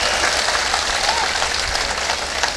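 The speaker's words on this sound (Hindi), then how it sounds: "तालियां कमजोर है" An audience at a Hindi poetry recital claps in a dense, steady patter of applause that carries on evenly without a break.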